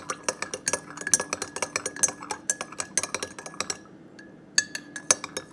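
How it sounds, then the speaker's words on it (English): A spoon clinks repeatedly against a glass while stirring baking soda into water, quick bright taps in an irregular rhythm with a brief pause before the clinking resumes, close and clear with no talking. "I'm still stirring. It hasn't all dissolved yet."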